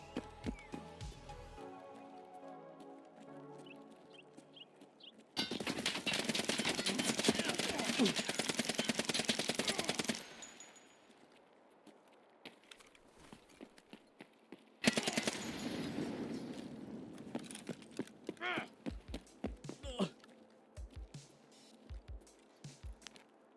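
Uzi submachine gun bursts in Escape from Tarkov, two loud sustained full-auto bursts separated by quieter footsteps and movement, with scattered single shots near the end.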